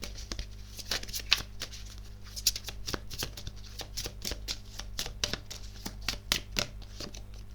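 Playing cards shuffled for a tarot-style card reading, a long run of quick riffling flutters and soft snaps, close and steady throughout with no voices over it.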